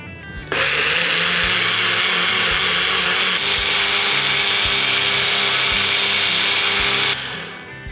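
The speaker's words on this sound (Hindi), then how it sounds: "इस तरह हमें महीन पीसना है इसे।" A kitchen mixer grinder whirs steadily for about seven seconds, grinding gravy paste fine for malai kofta curry, starting abruptly and cutting off near the end, loud and alone with no talk.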